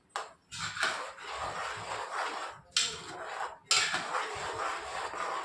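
Cooked rajma and gravy are stirred in a pot with a metal spoon, giving several close, continuous bouts of wet scraping and clinking broken by brief pauses.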